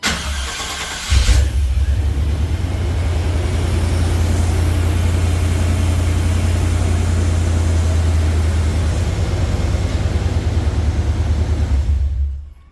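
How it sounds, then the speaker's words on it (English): An OBS-era truck fitted with a newer Vortec gear-reduction starter cranks briefly on a cold start, then the engine catches and settles into a steady, loud, close idle that runs for several seconds before cutting off. "this is I think a gear reduction direct drive starter, so it's going to sound a little different"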